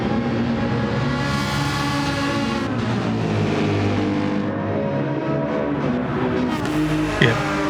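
GT3 race cars in a sim racing game, a light blue Mercedes and a Porsche among them, hold a loud, steady engine drone with shifting pitch as they run close together through corners, with no talk.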